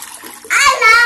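Water poured into a kitchen pot holding soaked cumin seeds, a loud close splashing rush that starts abruptly and keeps flowing, with a voice faintly audible before it.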